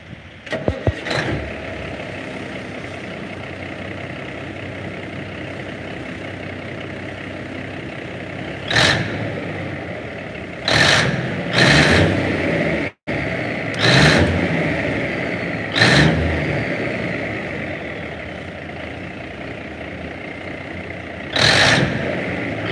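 A 1980 Kenworth W900A truck engine idles steadily up close with a constant low rumble, broken by several short louder bursts that sound like revving or knocks.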